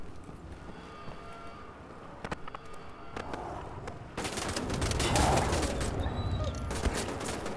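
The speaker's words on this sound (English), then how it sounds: "We're gonna kill people with handguns from cover." Handgun fire in the first-person shooter Wolfenstein: The New Order, shot from cover: a few sharp isolated shots, then a dense, louder burst of rapid gunfire and chaotic combat noise in the last few seconds.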